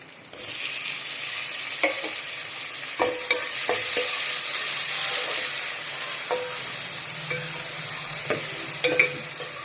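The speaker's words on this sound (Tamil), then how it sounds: "தக்காளி நல்லா வதங்கட்டும்" Tomatoes and onions sauté in a pan for chicken biryani, giving a constant soft sizzle broken by occasional stirring scrapes and light taps, with no talking.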